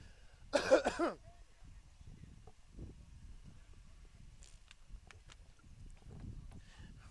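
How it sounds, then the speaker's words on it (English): A single close cough from a commentator at a live town ball baseball game bursts out near the start, followed by quiet background rustling and faint knocks. "Commentator cough."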